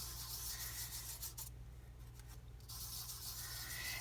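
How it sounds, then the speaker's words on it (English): Green wax paste rubbed in spots onto a surface by hand, giving a soft continuous scuffing rasp that briefly drops out midway, then resumes, quiet and close with no voices. "I'm just going to take and just rub kind of in spots with this"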